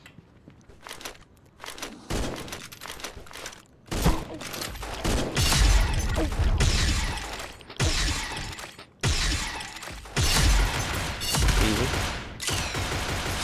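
Gunfire from the video game Pixel Gun 3D, including sniper fire: loud, repeated bursts of shots and crashing impacts in clusters, with brief gaps between volleys and a short spoken word in the clip.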